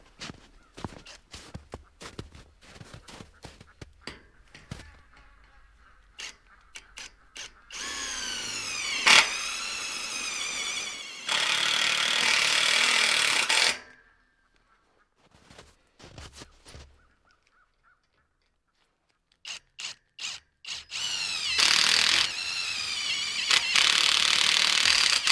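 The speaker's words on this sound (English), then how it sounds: "it's a little hard to to drill" A power drill boring into a maple tree to tap sap outdoors, with bursts of whining motor noise that stop and start, separated by quiet gaps and footsteps and handling clatter.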